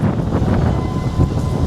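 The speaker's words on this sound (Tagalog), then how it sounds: "Ang lakas ng hangin." Strong wind buffets the microphone outdoors in rainy, stormy weather, making a loud, steady roaring rush with no speech.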